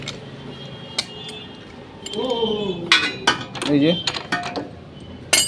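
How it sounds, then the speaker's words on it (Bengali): A wrench turns the 22 number nut on the rear shock absorber of a 150 cc two-wheeler in a repair shop, giving scattered sharp metallic clinks and light scraping close by, with a brief spoken remark. "দেখুন এখানে 22 নম্বর নাটটাকে আমি খুলে নিচ্ছি।"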